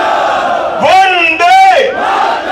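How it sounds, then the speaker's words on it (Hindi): A political rally crowd in Karawal Nagar, Delhi chants Jai Shri Ram in unison, two loud swelling shouts rising and falling close together, massed voices ringing out over the crowd. "मुट्ठी पीछे और प्रचंड आवाज से बोलिए जय श्री राम, जय जय श्री राम"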